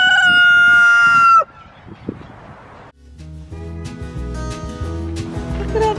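Rooster at a backyard homestead chicken coop gives a loud, close, sustained crow that cuts off abruptly, followed by quieter rustling and then a busy stretch of layered tonal sounds.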